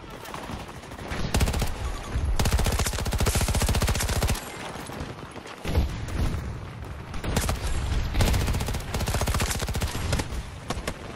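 Infantry gunfire in Battlefield 2042 multiplayer: loud, sustained automatic rifle bursts with rapid rhythmic rattling, broken by short pauses and occasional explosions, close and dominant.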